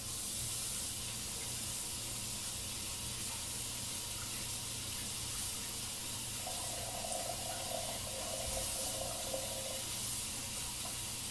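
Water runs steadily from a kitchen tap for washing while potatoes are prepared for cooking, a continuous hiss close by without speech, with a faint clatter partway through.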